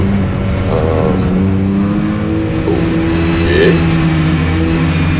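A race car engine free revs after a drivetrain failure, loud and close, its pitch rising and falling through several quick revs over a steady engine drone, with no one talking.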